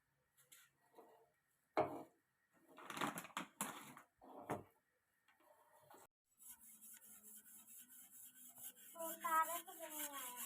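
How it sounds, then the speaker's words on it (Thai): Brass wire brush scrubbing rust after a bathroom-cleaner treatment, with short rasping bursts at first, then continuous close scratchy scrubbing, faint and alone. "ผมได้เจอแปรงทองเหลืองมาขัด"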